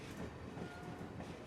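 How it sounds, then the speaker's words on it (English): A train rolls along rails with a continuous low, muffled rumble that stays faint and even throughout, without any voices. "As Timothée steps off the train onto a platform"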